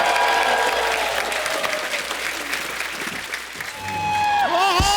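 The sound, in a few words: audience applause for a singer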